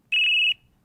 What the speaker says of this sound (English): Loud beeps here.